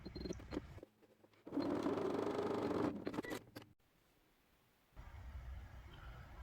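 A sewing machine runs a topstitch about 2 mm from the edge of a fabric scrunchie to close the opening, whirring steadily in a close burst of a second and a half, then going quiet before a softer rustle.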